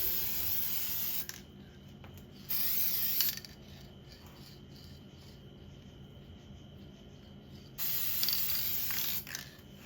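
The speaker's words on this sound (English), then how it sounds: "Now these brackets on top were much simpler to spray" A spray gun hisses while painting pine chair brackets during a furniture refinish, with two loud bursts of several seconds each separated by quieter workshop background.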